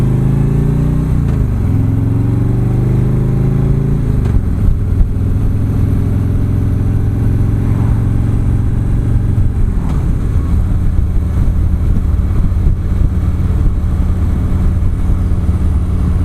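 A Harley-Davidson motorcycle pulling away on the road, engine loud and close with rising revs through a couple of gear changes, then a steady cruising rumble mixed with wind noise.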